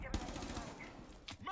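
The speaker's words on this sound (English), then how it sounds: "Exchanging gunfire, but no real target to be found." A short burst of rapid gunfire from a Rainbow Six Siege esports match, a sharp shot up front followed by faint continuing fire and another crack near the end, all fairly quiet.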